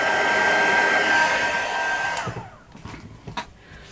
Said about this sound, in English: So make sure you get all of yours with your heat tool